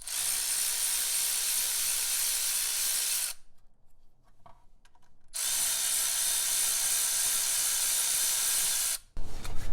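An air tool runs loud and steady while removing 13mm brake caliper bracket bolts on a Jeep Wrangler. The hiss and whir stops for a couple of seconds, then runs again before cutting out.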